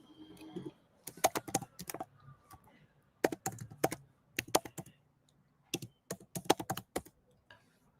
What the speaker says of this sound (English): I'm typing so slow.